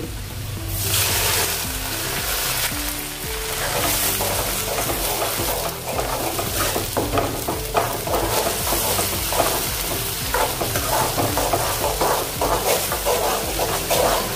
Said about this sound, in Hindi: अभी हम टमाटर की प्यूरी डाल देंगे।